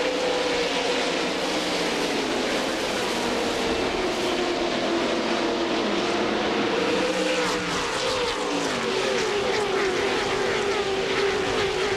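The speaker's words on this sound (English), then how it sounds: "Looks like 180-mile-per-hour parade lap" A field of NASCAR Winston Cup stock cars runs a fast parade lap in single file at Talladega Superspeedway, a dense, continuous engine roar that stays loud and steady as the pack thunders past.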